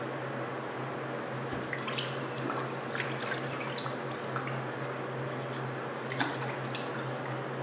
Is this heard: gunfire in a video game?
no